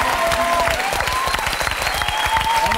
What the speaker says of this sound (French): je te demande d'applaudir et Victoria.